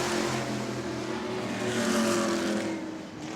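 Race cars at New Smyrna speedway lap the track in a steady, loud roar of several engines, with pitch sweeping as the pack passes by at a short oval.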